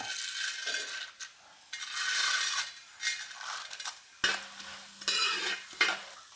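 Roasted gram fries in ghee while being stirred, loud hissing bursts of sizzle alternating with quieter gaps, with metallic spoon scrapes and taps against the pan close up.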